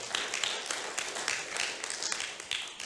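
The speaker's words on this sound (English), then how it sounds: "give the Lord a clap offering of praise" Church congregation clapping in praise, a quiet continuous patter of many hands with uneven bursts, heard from a distance with no talking.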